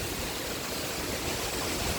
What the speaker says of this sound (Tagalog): Ayan, sobrang lakas ng hangin.